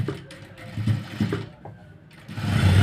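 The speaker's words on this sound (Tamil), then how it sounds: "அந்த ஷோல்டருக்கு நடுவில் தையல் போடணும்" An electric sewing machine stitches the shoulder seam of a chudi in short mechanical bursts of rapid clattering, close and fairly loud, pausing briefly before running again more strongly.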